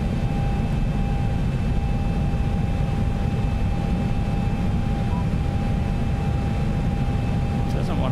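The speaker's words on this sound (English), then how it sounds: "Trying to slow this aircraft down." Boeing 737-800 airliner engines in X-Plane 11 flight simulator, a steady broadband roar with a constant high whine, droning evenly and loudly throughout.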